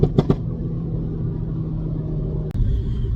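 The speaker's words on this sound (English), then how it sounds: "putting the power down it is struggling, it keeps spinning up" A Stage 1 tuned VW Golf Mk7 GTI accelerates hard on damp road, a steady close engine drone with a sharp shift-like break near the end; a few brief knocks open the run.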